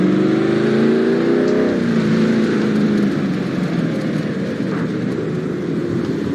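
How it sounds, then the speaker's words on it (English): A race car in the NASCAR Racing 2003 video game revs hard during a tire burnout, its loud engine roar climbing then settling into a sustained rough drone, heard alone with no talk. "let's go and blow out the tires"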